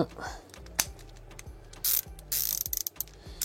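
A ratchet with a 19 mm socket tightens the battery terminal on a BMW E46 330, giving a series of close, quick metallic clicks in short bursts with brief pauses between strokes.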